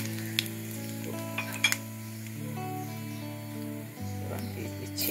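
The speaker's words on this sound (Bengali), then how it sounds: "এবার যা তেল আছে মনে হচ্ছে যথেষ্টই হয়ে যাবে। তো বললাম আমি একটু ফোড়নের জন্য একটু জিরে ব্যবহার করছি।" Cumin seeds sizzle in hot oil for a tempering, a soft, steady frying hiss with a few faint clinks of a utensil against the pan. A steady low hum runs underneath.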